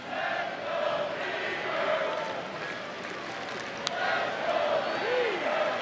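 A baseball stadium crowd cheers and claps for the pitcher at an Angels home game against the Indians, with swelling roars and chants rolling in waves under steady background murmur.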